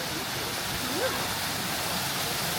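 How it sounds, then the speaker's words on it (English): A zoo waterfall rushes as a steady, broad roar of falling water, with a brief faint voice or whistle rising over it partway through. "A waterfall over here."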